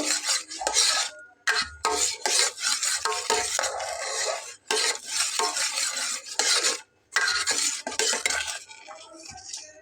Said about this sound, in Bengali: আমি আলাদা একটা পাত্রে এটাকে ঢেলে নেব